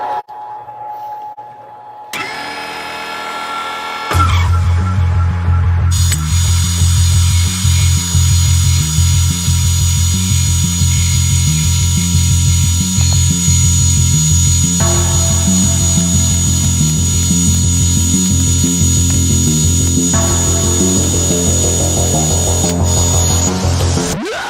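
A mini lathe cuts threaded rod, a loud, steady motor whine with a strong low hum and bright high tones after a brief start-up, running continuously with slight shifts in pitch as the cut proceeds.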